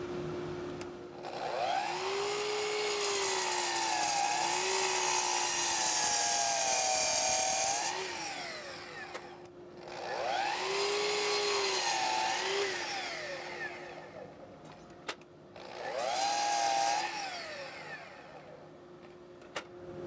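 Power saw ripping wood workpieces into 2-inch-square, 7-inch-long stock in a woodshop; three loud sustained cutting passes, each whining steadily over a constant motor drone, separated by brief pauses as the blade spins down.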